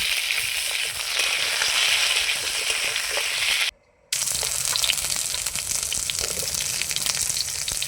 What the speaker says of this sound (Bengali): এবার ওই কড়ার মধ্যেই একটু তেল দিয়ে দেবো। এই যে আলু পটল কাটা আছে, পটলগুলো প্রথমে একটু ভেজে নেব।